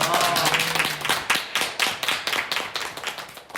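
A small group claps for a few seconds at a stage event of a Korean media and PR festival, the clapping thinning out toward the end, with a voice briefly heard at the start.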